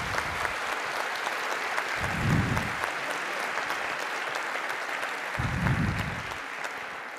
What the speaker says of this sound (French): Je pense qu'il faut vraiment les applaudir parce qu'ils ont eu ce courage.